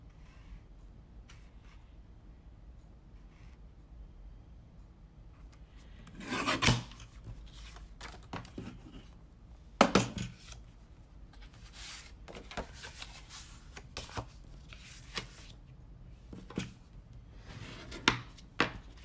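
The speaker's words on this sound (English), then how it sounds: "Let's see if my little trimmer is helpful." A small paper trimmer slices through card stock for Christmas cards, a few sharp scraping cuts standing out against a quiet background, with scattered rustling and handling sounds of paper in between.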